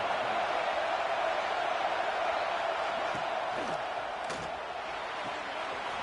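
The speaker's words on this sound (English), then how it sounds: "This crowd knows when to bring it." A football stadium crowd in a video game roars and cheers in one continuous, dense wash of noise that stays loud and steady from start to finish.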